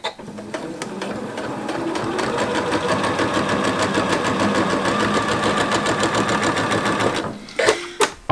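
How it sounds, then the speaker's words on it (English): Sewing machine stitching strips for a jelly roll race quilt: a steady, fast mechanical whir and clatter running close and loud for several seconds, then slowing and stopping with a few final clunks. "So right now we're just sewing."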